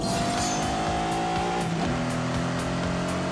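A Lamborghini Countach with a 5.2-litre V12 accelerating in The Grand Tour video game, a loud continuous engine roar climbing in pitch, then dropping and rising again through a gear change, with some tire noise.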